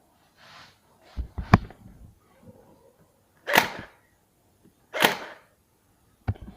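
Several separate sharp gunshot-like cracks from a shooting-gallery gun in single-shot mode, spaced a second or more apart, with faint handling clicks between.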